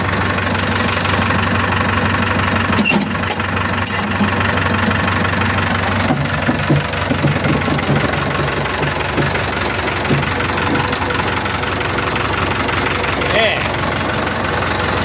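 A used Isuzu KS22 six-wheel truck's diesel engine runs close by with a steady knocking rumble, its level rising slightly as it is revved, while someone talks over it.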